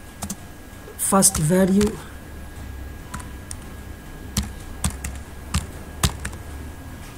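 Typing on a computer keyboard for VB.net code: sparse, sharp key taps spaced out over several seconds, close and fairly clear, following a short burst of a man's speech near the start.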